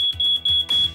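A household smoke detector under test sounds a loud, piercing electronic beep, repeating rapidly several times in quick succession, close by and alone.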